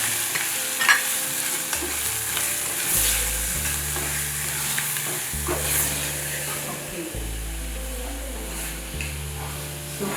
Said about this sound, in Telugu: సో కీమా వేసి మంచిగా కలుపుతూ ఉన్నానండి.